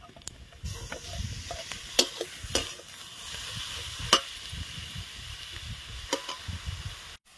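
Pointed gourd filling tipped into onions already fried deep red, giving a soft steady sizzle with scattered sharp clicks and scrapes as it is stirred, fairly quiet and with no talking.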